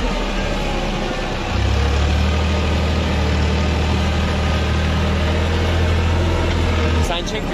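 A 240 single-drive tractor idling in deep forest snow, a loud, steady low diesel rumble that steps up slightly in pitch and holds evenly before dropping away near the end.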